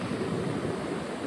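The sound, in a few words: sea waves at Ubharat beach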